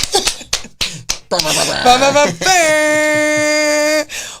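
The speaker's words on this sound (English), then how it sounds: "We're clapping." A few quick, sharp claps or snaps open the moment on a talk show welcoming a guest, followed by a sustained cheerful vocal exclamation.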